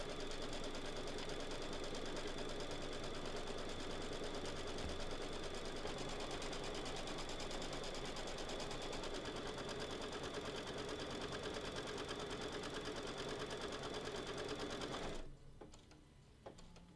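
An embroidery machine stitches a tack-down line for placing fabric, a steady loud mechanical whirring hum with fast rapid needle rhythm that runs continuously, then stops abruptly near the end leaving faint clicks.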